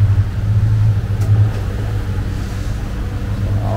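Inside a speedboat on a Naka Island resort trip, the engine gives a loud, close, continuous rumbling hum with a few faint clatters on top.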